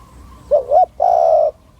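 A wild dove, a captive decoy lured out in a Thai dove-snaring setup, gives a short coo phrase of two rolling notes and then one long sustained coo, close and clear against a quiet background.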